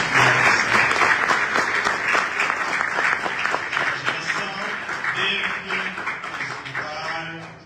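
A colloquium audience applauds a speaker with a sustained burst of clapping from a crowd in a hall, steady and fairly close, fading slightly toward the end as a voice begins.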